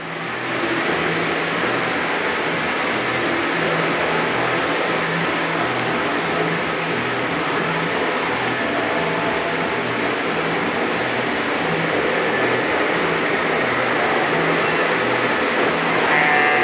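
A model train runs on a club layout with a steady mechanical hum and a faint repeating rhythmic clatter, holding at an even level for the whole stretch.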